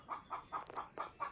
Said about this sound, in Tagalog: May manok na naman ang itlog, ang ingay.